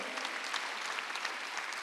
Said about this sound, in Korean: 빨리 박수해주세요